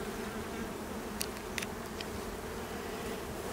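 Bees give a steady, faint buzzing drone against an even background hum, continuous throughout, with a few brief clicks and no voices.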